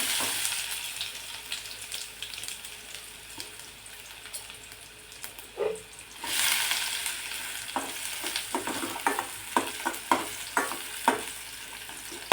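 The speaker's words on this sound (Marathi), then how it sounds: "मोहरी तडतडली की बारीक चिरलेला कांदा टाकायचा आहे।" Chopped onion hits hot oil with spluttering mustard seeds, bursting into a loud, steady sizzle partway through, with crackles and sharp stirring clicks and scrapes of a spoon in the pan following; no one speaks.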